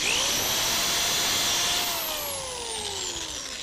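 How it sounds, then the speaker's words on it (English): A power drill bores pilot holes in lumber for a DIY wine rack, one continuous high whine that holds steady, then sags in pitch as the bit loads up, loud and close with no talk. "So again, you make your pilot holes, then you get your screws in."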